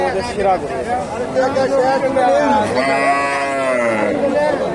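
Cattle at a rural livestock market where a Friesian heifer is on sale, with lowing and bleating calls rising over a crowd of voices talking throughout, loud and close.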